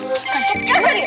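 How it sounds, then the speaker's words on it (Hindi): A mobile phone ringtone plays a short melodic tune for an incoming call in a home setting, close and clear, with voices partly mixed in. "अब मुझे फोन कर रहा है।"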